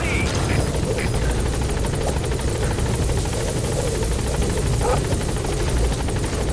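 A support helicopter in Metal Gear Solid V arrives with a steady, loud rotor roar and turbine whine filling the whole stretch, constant and close, with faint game voice sounds underneath.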